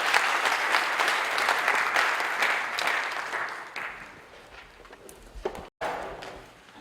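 After a sermon at a church seminar a large audience applauds loudly with dense clapping, which thins out and fades over several seconds. A short pause follows, then a fresh burst.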